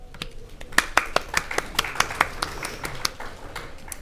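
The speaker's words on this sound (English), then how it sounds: "could we have a round of applause for all of these people here today?" Scattered hand clapping from a small audience at a disability-rights conference session, loose claps near and far over about four seconds with faint murmuring.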